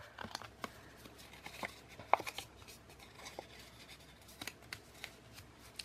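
Paper being folded fan-style for a library pocket craft, soft close crinkles and taps in short irregular bursts against a quiet background.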